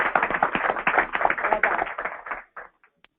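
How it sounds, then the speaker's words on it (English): A small audience at a health care commission meeting applauds, brisk crisp clapping from a modest group, strong at first then tapering off to a few last claps. "I think that deserves a round of applause"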